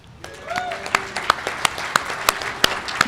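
Applause from a conference crowd at a security event builds over a few seconds into a steady wash of claps, with a voice speaking briefly at the start.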